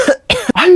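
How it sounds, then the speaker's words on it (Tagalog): A child coughs three times in quick succession, close and loud, each harsh burst rasping with a strained voiced edge. "Hala, inuubo ka ba, nak?"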